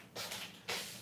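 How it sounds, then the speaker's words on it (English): A window shutter is pushed open in a room in two quick bursts, a short rattling slide followed by a second louder one, close by with no talking. "Let me open the shutter completely so you'll see better."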